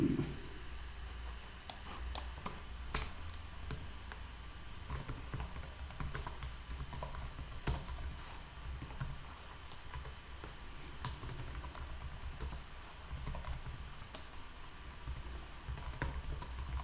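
Steady typing on a computer keyboard, with irregular clicking keystrokes continuing throughout at close range over a low background hum.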